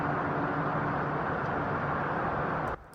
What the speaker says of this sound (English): starts off really simply by just some street ambience